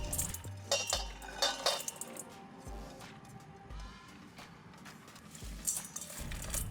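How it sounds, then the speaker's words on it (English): Almonds and dried blueberries dropping into a large bowl of kale, giving a few soft, light clinks and rustles against the bowl, fairly quiet and close. "In a large bowl, we've added the kale, now these almonds and dried blueberries go in."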